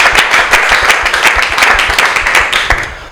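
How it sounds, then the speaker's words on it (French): An audience at a comedy show in Lubumbashi bursts into loud, dense clapping that carries on steadily throughout. "Sous vos applaudissements encore, cher public."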